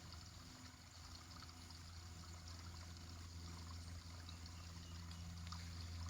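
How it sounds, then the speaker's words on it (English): A small spring-fed stream trickles faintly and steadily through mossy woodland, a soft continuous babble of water with no voices. "Awesome stream."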